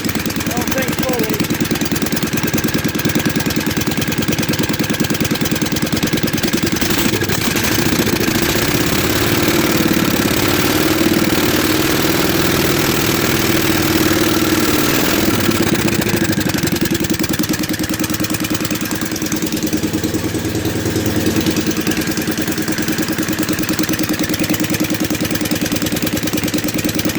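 A John Deere Gator engine idling roughly and not firing fully, a loud continuous uneven chug near at hand, with someone talking over it.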